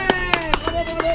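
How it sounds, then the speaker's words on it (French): Several separate hand claps in an uneven rhythm, fairly close, with a voice talking under and between them. "Applaudis toi."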